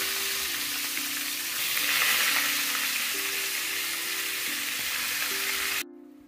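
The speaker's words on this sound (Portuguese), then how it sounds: "Então tá fritando aqui" Steady sizzling of beef testicles frying in a pan, continuous and close, with a low hum underneath that cuts off abruptly at the end.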